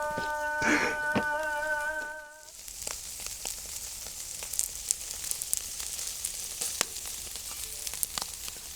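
Kokoreç cooks on a charcoal grill, giving a steady, soft sizzle with faint crackles and pops throughout, after a brief tonal hum at the start; no talk is heard.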